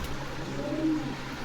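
A newly bought pigeon at a pigeon farm gives a short, low coo, close and fairly quiet over a steady background hum.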